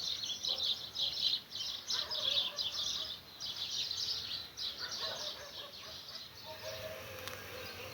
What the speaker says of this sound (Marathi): चिमण्यांची चिवचिव किती सुरू